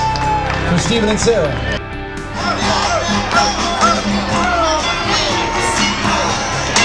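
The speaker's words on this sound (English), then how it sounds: "One more time, everybody. A huge round of applause" Wedding guests applaud and cheer in a sustained burst of clapping mixed with crowd chatter and whoops, dense and close throughout, while a voice speaks briefly over the noise.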